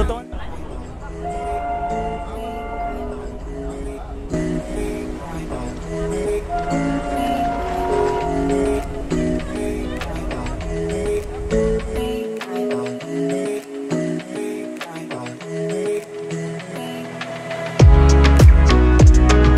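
The Darjeeling toy train runs uphill after Tindharia station on the New Jalpaiguri to Darjeeling line, a steady rumbling clatter of the moving carriages heard from on board, with a sharp whistle-like burst near the end.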